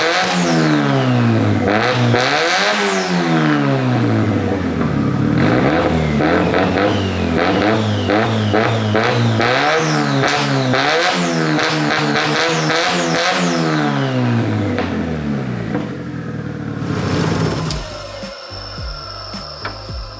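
A Nissan SR20 turbo engine with a custom turbo manifold in an S13 revs loudly and repeatedly, each rev climbing and dropping in pitch, before it settles near the end into rattling mechanical noise.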